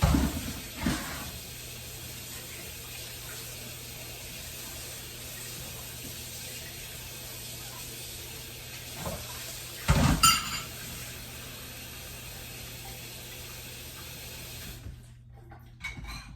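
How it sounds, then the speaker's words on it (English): Tap water runs steadily in a kitchen sink during hand washing after making chocolate crinkle cookie dough, a constant hiss with a few brief clinks and bumps before it cuts off near the end. "I'm gonna wash my hands"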